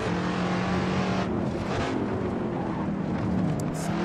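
Shelby Cobra roaring around the Nordschleife in the Assetto Corsa racing game, a steady, loud engine drone holding high revs with slight pitch shifts as it accelerates, continuous and close with no talk.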